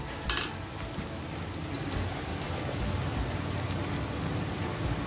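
Onions cooking in a pan are stirred, with a metal spoon clinking at the start, then a steady soft sizzle and scraping that carries on at low volume without speech.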